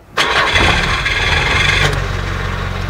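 A Nissan Pao's carbureted engine cranks and catches with a sudden loud start, then settles into a steady, rough idle close by, with no talking.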